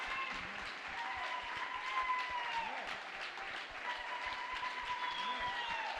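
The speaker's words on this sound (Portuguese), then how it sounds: "Who can clap our hands for her?" Church congregation clapping together during a midweek worship service, a steady dense patter of many hands that continues throughout at moderate volume, with faint voices and a sustained tone beneath.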